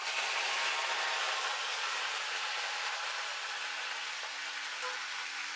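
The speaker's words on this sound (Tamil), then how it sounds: "கருவேப்பிலை தண்ணியோட கழுவுனோடனே டப்பு டப்புன்னு வெடிக்க" Washed curry leaves spatter and crackle in hot oil with mustard seeds and dried red chillies while garlic tomato thokku is being cooked, giving a steady, dense sizzle that stays loud and close throughout, with no talking.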